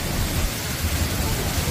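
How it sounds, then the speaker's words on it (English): Heavy monsoon-like rain during a severe Australian storm, a dense steady wash of downpour roaring close and loud without a break, with a low rumbling undertone throughout. "It's actually like a monsoon."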